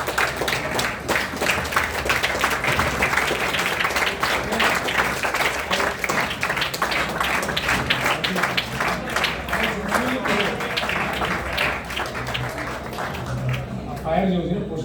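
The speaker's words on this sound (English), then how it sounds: "I think we should all stand and clap for our scientists" An audience applauds for India's scientists, sustained clapping filling the room at steady loudness for the whole stretch, with voices mixed in and the clapping thinning toward the end.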